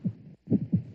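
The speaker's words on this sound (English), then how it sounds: "That sound you hear is a heartbeat" A heartbeat thuds low and muffled in a slow lub-dub rhythm, with about two and a half beats separated by a brief silent gap.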